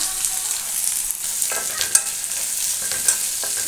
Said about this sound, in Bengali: এবারে দিয়ে দিব পেঁয়াজগুলো দিয়ে দিলাম